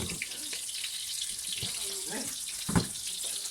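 Water pours steadily into a jug with a soft, continuous splashing, quiet and close, with a brief clunk near the end.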